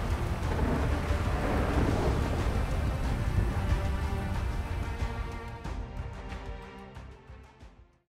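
Heavy rain pours steadily while deep thunder rumbles continuously in a storm at sea in the video game GTA 5, the storm thinning and fading toward the end.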